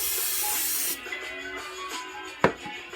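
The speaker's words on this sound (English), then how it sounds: "now Grandma about to spray her dish out" Cooking spray hisses onto a baking dish being greased for homemade cracklin cornbread: one close, steady burst of about a second, then quieter kitchen handling and a sharp knock.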